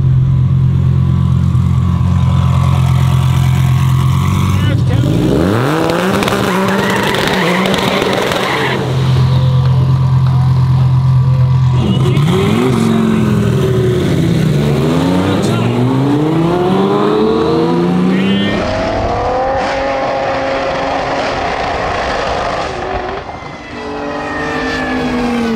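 A high-horsepower Dodge Viper drag car at a TX2K drag racing event roars loudly through repeated launches and rising revs, the engine note climbing in sweeping surges and easing off between pulls, heard up close.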